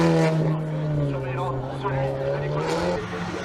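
A Cupra Leon Super Copa MK3 race car on the Col Saint-Pierre hillclimb holds a steady, loud engine drone with strong harmonics, droning on continuously without a break.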